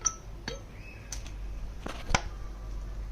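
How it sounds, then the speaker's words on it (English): Ice cubes clink into a glass of Indonesian es jeruk, fresh-squeezed orange juice, as a few separate sharp, bright taps and chinks sound close by with no talking. "I'm going to put some ice in to make it es jeruk"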